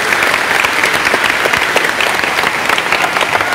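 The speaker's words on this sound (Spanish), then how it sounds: "Un aplauso para el hermano." A church congregation clapping together in dense, sustained applause, loud and steady throughout with no pauses, filling the room.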